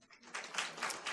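Church congregation applauding a retired pastor, a brief dense burst of clapping from a crowd, fairly close and steady.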